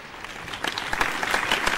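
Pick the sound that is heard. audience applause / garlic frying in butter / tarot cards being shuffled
audience applause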